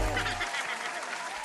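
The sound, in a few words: applause sound effect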